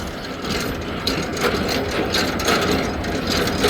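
Trailer landing gear being cranked in high gear, a continuous close, loud ratcheting grind of meshing gears with a steady rhythmic churn and no talking.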